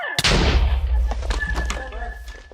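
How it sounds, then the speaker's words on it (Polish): A Minecraft Creeper explosion bursts in loudly and rumbles away over a couple of seconds, with a few fainter crackles and game sounds trailing after. "Creeper wybuchł."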